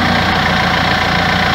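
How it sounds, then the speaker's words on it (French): Radiator cooling fan of a Renault Espace 4 running at its higher speed with a hot engine, a steady loud whir and hum blended with the idling engine, continuous and even throughout. "Là j'ai le ventilateur qui s'est mis en marche en vitesse supérieure."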